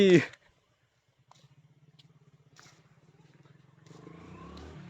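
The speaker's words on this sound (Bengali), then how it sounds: "এই যে আমাদের বাইক চলে আসছে পেছনে" A motorbike approaches from behind on a trip near the Amazon, its low engine putter pulsing faintly at first and growing steadily louder, after a brief voice at the start.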